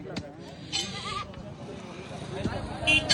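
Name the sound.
goat bleating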